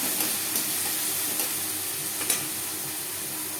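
Prawns dropped into a pan of cooking bottle gourd with fried chilies give a steady, moderate sizzle and hiss throughout, with a few small pops and crackles and no talking.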